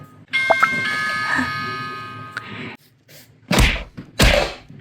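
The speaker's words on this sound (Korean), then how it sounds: "고장이 나서 초인종이 계속 마음대로 눌려" A broken toy door's electronic doorbell goes off on its own, playing a steady multi-tone chime for a couple of seconds, followed by two dull thumps.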